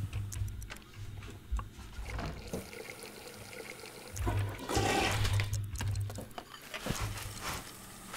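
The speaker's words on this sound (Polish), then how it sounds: "skorzystaj sobie i potem spuść wodę" A toilet flush in The Sims 2 video game rushes and gurgles in a swell of water that rises midway and then drains away, alone and moderately loud.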